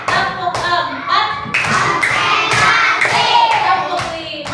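Rhythmic hand clapping from a class of first-grade children keeping a counted clap pattern, several bursts of claps with a teacher's voice and children's voices mixed in.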